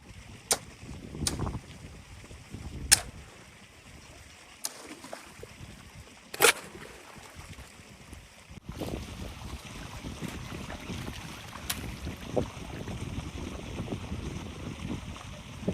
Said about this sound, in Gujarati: પવન એટલો ઠંડો આવે છે.